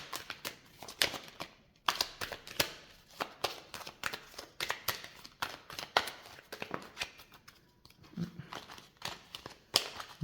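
Tarot cards being shuffled by hand, a run of soft papery riffles and taps in irregular bursts, close and fairly quiet, with no voice over them.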